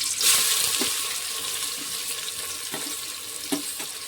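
Sliced onions frying in hot oil for a green-chili chicken gravy, a steady hiss and sizzle close by with faint clinks, no talk over it.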